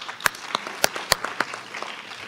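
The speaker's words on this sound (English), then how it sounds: "give yourselves a round of applause" Students and families at an 8th grade award ceremony clap, scattered and fairly light, with a few sharp, distinct claps standing out from the softer patter.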